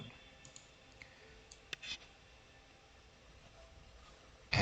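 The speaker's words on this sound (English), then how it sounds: "I don't know if the stone clicking sounds have something to do with this as well" Go stones click sharply onto a board, a few isolated, quiet taps spaced across a faint, hissy background, with a louder clack at the very end.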